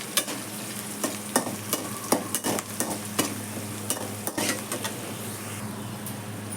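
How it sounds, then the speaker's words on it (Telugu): Chopped onions fry in oil over a medium flame for a ridge gourd and chana dal curry, sizzling steadily while a spoon scrapes and clacks against the pan in quick strokes. "ఈ ఆనియన్స్ని గోల్డెన్ కలర్ వచ్చేంత వరకు మీడియం ఫ్లేమ్లో పెట్టుకొని ఫ్రై చేసుకోవాలండి"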